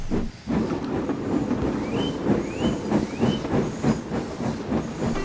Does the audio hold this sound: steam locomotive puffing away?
yes